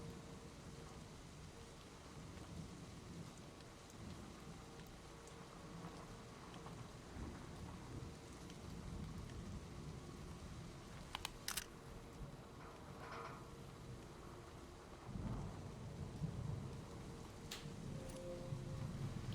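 In a cel-shaded video game, steady rain falls with rolling thunder, a continuous wash of downpour at moderate level with no talking.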